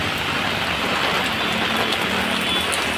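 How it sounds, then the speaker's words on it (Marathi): Heavy rain pours down in a dense, steady roar, loud and continuous with no pauses. "बाहेर बघू शकता की किती मोठ्याने जोरदार पाऊस पडतोय"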